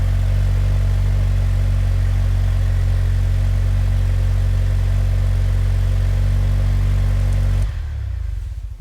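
A steady, deep Jeep Wrangler JL engine idle through an aFe Mach Force XP Hi-Tuck axle-back exhaust, low throaty rumble, constant and close, cutting off abruptly near the end.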